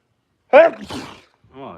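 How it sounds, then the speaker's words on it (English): A single sharp, close sneeze bursts out at a live music event, followed by a short breathy exhale and a brief bit of voice. "I sneezed and 16 people showed up."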